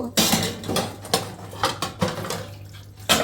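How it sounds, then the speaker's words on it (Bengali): Plates and bowls being washed at a kitchen sink, with clattering dishes, clinking utensils and splashing water in irregular close bursts. "যে থালাবাটিগুলো ছিল এভাবে রাইখা দিছি তো এগুলো এখন ধুয়ে নিব"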